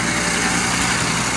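A tractor engine idles steadily and loudly at close range, a continuous broadband rumble with no voices over it.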